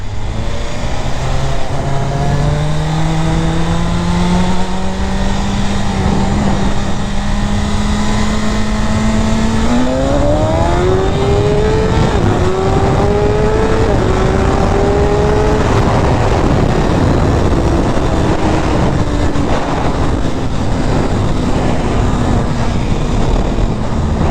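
A 2024 BMW S1000RR motorcycle engine howling loud and close as it accelerates, pitch climbing through the gears, then briefly faltering and wavering as wheelie control cuts in before the revs settle lower.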